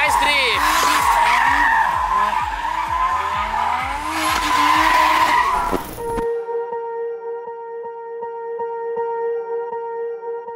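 A car drifting fast through a corner, with tire squeal and a straining engine for about six seconds before music takes over.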